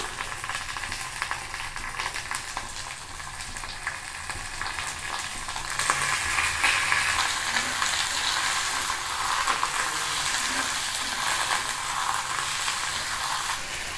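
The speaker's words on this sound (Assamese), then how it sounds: "ইয়াত মই মাংসখিনি দি দিম।" Pork meat sizzles in a pan of browned onions for a village-style pork curry. A steady, loud frying hiss fills the whole stretch and grows stronger partway through, with light stirring scrapes and no talking.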